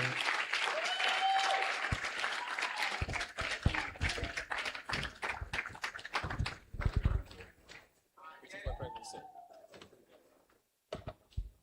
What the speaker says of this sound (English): Ladies and gentlemen, with a round of applause, let's welcome Professor Seiram Kaur.